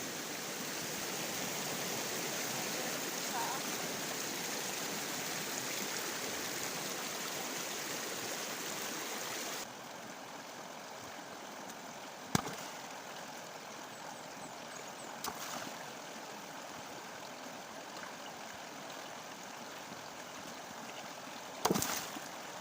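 A natural creek gives a constant broadband rush of flowing water, fuller for the first ten seconds and then softer and steadier. A few faint knocks sound near the end.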